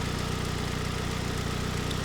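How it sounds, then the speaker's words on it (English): A 2007 Ford Focus 2.0 engine, old and tired, idles close up with a steady, even rumble and a faint rhythmic ticking throughout. "it's still making, you know, noises that old tired engines make"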